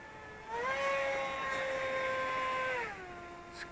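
An Eachine Airloader 1280mm long-range FPV RC plane throttles up in flight, its electric motor whine rising sharply in pitch, holding a steady buzzing tone for a couple of seconds, then dropping back down, close and moderately loud.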